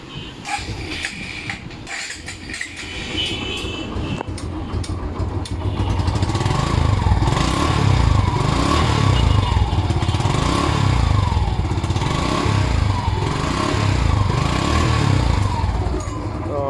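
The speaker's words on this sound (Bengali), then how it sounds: "এটার তো বাইকটা স্টার্ট দিয়ে আপনাদেরকে সাউন্ড শোনাচ্ছি" A used Suzuki Gixxer Monotone motorcycle is started and left running, a few clattering mechanical sounds giving way to a steady, close engine idle that grows louder and stays even, with no talking.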